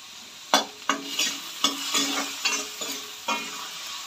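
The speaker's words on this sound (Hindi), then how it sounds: "टमाटर को नमक के साथ 1 मिनट भूनेंगे।" Tomatoes and salt fry in a pan for a dal and spinach dish, a steady soft sizzle broken by about eight scraping stirs of a spoon at a quick, uneven pace.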